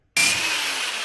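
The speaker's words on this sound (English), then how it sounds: "Now I am drilling, I've lined up my holes and I'm drilling my actual shield." A power drill bores into a steel shield, starting abruptly after a brief silence and then grinding on steadily and loudly, close by with no talking.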